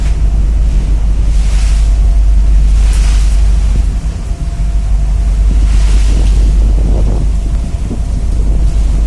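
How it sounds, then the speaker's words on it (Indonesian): Rough sea and rain aboard the ferry KMP Munic VII, a steady loud wash of waves and wind roaring against the hull with surging swells rising and falling, no voices. "Hujan dan laut agak sedikit bergelombang ya, kita bisa melihatnya sendiri."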